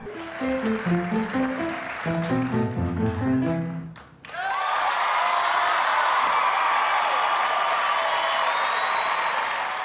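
A studio audience breaks into loud, sustained applause and cheering as a standing ovation for a four-year-old pianist on a television talent show, the ovation rising after the piano music cuts off and continuing steadily to the end.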